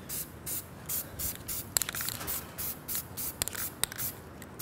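Dupli-Color spray can coating the wheel of an El Camino under restoration, heard as a series of short, soft hissing bursts with brief pauses between passes, fairly quiet and close.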